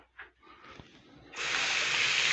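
Water gushes steadily from a tap into a sink while shaving gear is in use, a constant loud hiss that starts abruptly after a quieter stretch of small clinks and handling noises.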